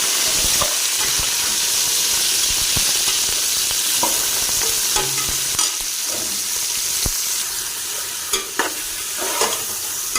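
Bone-in chicken fries in a few spoonfuls of hot oil. A loud, constant sizzle runs throughout, broken by clattering stirs and scrapes near the end.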